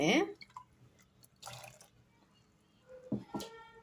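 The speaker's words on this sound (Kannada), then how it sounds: "ಸ್ವಲ್ಪ ನೀರು ಸೇರಿಸ್ತಾ ಇದ್ದೀನಿ ನೋಡಿ ಮಿಕ್ಸಿ ಜಾರ್ಗೆ" Water is poured into a kitchen mixer jar while making tomato buttermilk rasam, heard as faint, brief splashes and trickles separated by near silence.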